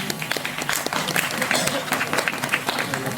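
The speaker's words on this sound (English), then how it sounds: "Let's give a huge round of applause for our principal," Steady, dense applause from a crowd at a school graduation ceremony, continuing for a few seconds without a break.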